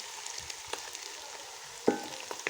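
Rice cooked in plenty of ghee is turned in a pot, a soft sizzle with a few light scraping stirs and one sharper clatter near the end, with no talking.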